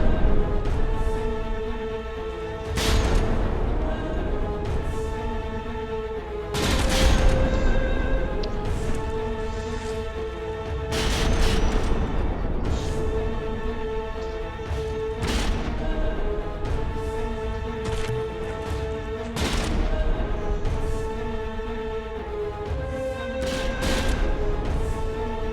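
Heavy naval guns firing in a dreadnought-era warship battle game, with repeated loud booms every few seconds over a constant rumbling background of continuous battle noise.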